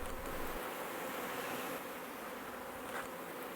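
Honeybees buzz at one of a beekeeper's 300 hives during the honey harvest. The hum is a dense, steady drone that stays close and even throughout, with no voices.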